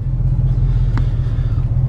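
A 1995 Dodge Ram yard truck with failing brakes rolls down a driveway, its engine a steady, loud low rumble throughout with no talking.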